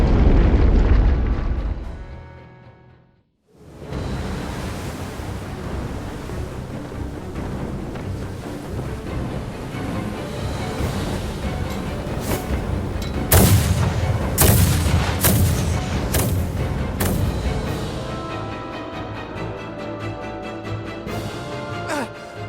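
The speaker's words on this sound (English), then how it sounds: "Their unceasing bombardment is laying waste to our forces." A naval battalion's artillery bombardment in the Star Ocean The Divine Force video game brings repeated heavy booms and blasts. They rise after a brief near-silent gap, loud and layered over a rumbling battle din.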